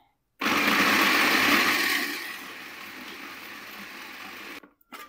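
Electric chopper chopping onions and green chillies in a home kitchen, a loud whirring motor that starts abruptly, runs about four seconds, eases slightly, then cuts off.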